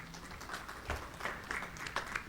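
Scattered applause from a church congregation, soft and somewhat distant, with a few overlapping claps over a light background murmur.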